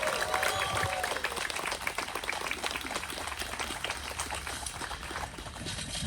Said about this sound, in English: Let's have a big round of applause for all countries represented